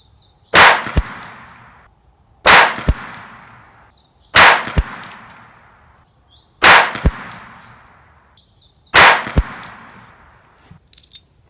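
Five sharp pistol shots from a Ruger Mark IV .22LR at an outdoor range, fired one by one at a steady two-second rhythm, each crack loud and close with a short echoing tail.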